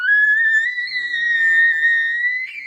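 Mouth reed diaphragm turkey call blown in one sustained, high, wavering whistle-like note lasting a few seconds, clear and close with no background.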